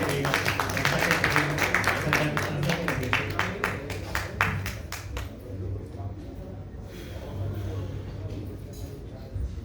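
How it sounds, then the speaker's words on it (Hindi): Audience clapping welcoming a Hindi stage play, distinct claps from a small audience over a steady low hum, fading out after about five seconds into quieter room noise. "2 लाख तालियों से स्वागत करिएगा।"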